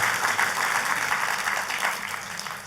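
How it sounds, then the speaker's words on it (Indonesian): Church congregation applauding together for God after a sermon, a steady wash of many hands clapping at fairly close range, with a slight fade toward the end. "tepuk tangannya yang paling meriah buat Tuhan kita"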